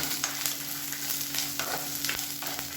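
Onions sauté with curry leaves in a pan for a Tamil breakfast chutney, a close, steady sizzle with faint scraping of the stirring spoon and a small clink near the end.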